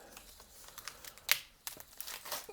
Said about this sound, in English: So just rip this open.